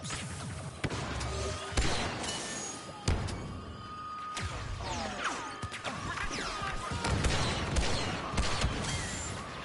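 Chaotic Star Wars Battlefront 2 battle with X-Wing gunfire raining down, sharp repeated impacts and blasts mixed with whooshing and crashing, loud and dense throughout.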